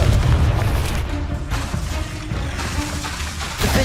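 Fire-spell explosions from a Hogwarts Legacy battle: a loud, continuous rumbling boom with dense low-end roar. It surges at the start and swells again near the end.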